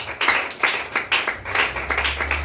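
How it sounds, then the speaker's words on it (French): A church congregation claps together in a steady, fairly quick rhythm of repeated sharp hand claps, moderately loud and close, with no voices over it. "Acclamons la parole du Seigneur."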